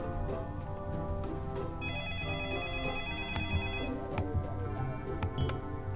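A telephone rings repeatedly inside a horror video game, a faint electronic ringtone pulsing over low background game sounds and music.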